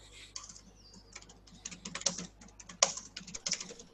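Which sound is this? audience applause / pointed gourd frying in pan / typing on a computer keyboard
typing on a computer keyboard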